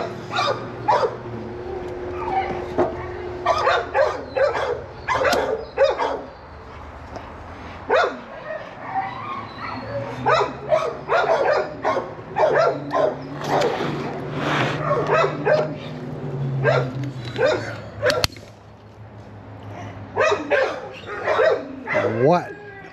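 Dogs barking repeatedly in bursts, loud and nearby, with yips and whimpers between barks and a person talking over them at an HVAC service call.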